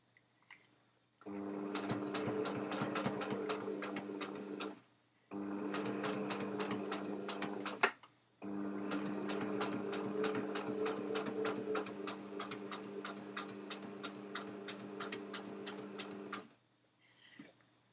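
A sewing machine stitches a fabric pen wrap in three close, steady runs of rapid mechanical clatter separated by short pauses.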